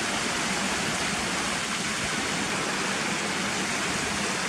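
Cotterforce waterfall pours in a steady, dense, loud rush of falling water, constant throughout with no pauses and no voices.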